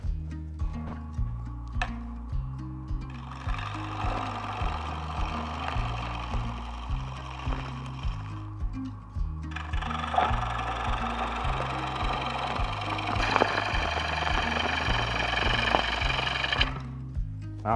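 A wood lathe turns a green aspen bowl blank, giving a steady low rhythmic thrum from the spinning wood beneath bursts of scraping and cutting hiss from the tool, close and continuous with no talk.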